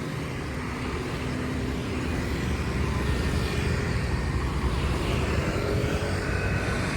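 Dense vehicle traffic flowing through the Simpang 7 square in Kudus, a steady broadband rumble of engines and passing cars, loud and unbroken, with no talk.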